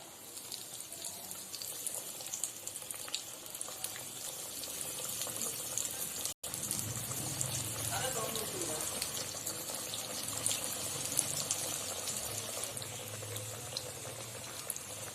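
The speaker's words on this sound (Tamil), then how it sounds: "இப்போ ஒன்று ஒன்றா நம்ம எண்ணெயில் சேர்த்துக்கலாம்" Potato cutlets frying in hot oil over medium heat, with a steady, bubbling sizzle that continues throughout at moderate loudness while someone speaks over it.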